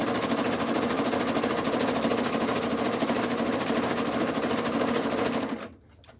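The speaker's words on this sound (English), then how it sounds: "I do not like the machine sewing on its own" A sewing machine runs on its automatic sewing button, a loud, close, steady rapid stitching hum lasting several seconds before it abruptly stops, with no talking.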